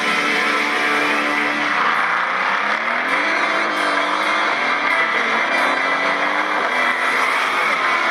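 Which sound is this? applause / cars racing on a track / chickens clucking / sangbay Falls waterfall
cars racing on a track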